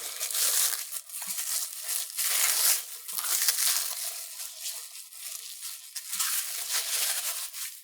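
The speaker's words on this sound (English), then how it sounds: "So let's unwrap it and cut it." Plastic wrap crinkles and tears as it is peeled off a chilled ham and cheese pinwheel log, a close, continuous crackling with brief louder rustles throughout.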